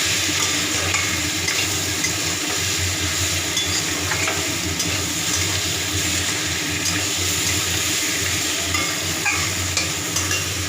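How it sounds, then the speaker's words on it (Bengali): Tomatoes simmering in a pot, giving a steady, close bubbling sizzle with soft stirring scrapes that runs evenly throughout, with no talking. "টমেটো দিয়েছি এই টমেটোগুলো সেদ্ধ হতে দিয়েছি"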